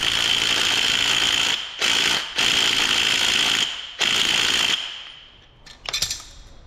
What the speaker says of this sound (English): we're just gonna keep hammering at her